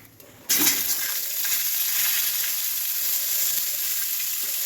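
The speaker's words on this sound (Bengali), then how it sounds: "গ্যাসটার ফ্লেমটা বাড়িয়ে দেবো, দিয়ে আমগুলোকে ঢেলে দেবো" Mango pieces tipped into hot spiced oil over a raised gas flame: a sudden loud burst of sizzling after half a second of quiet, settling into a steady close hiss and crackle.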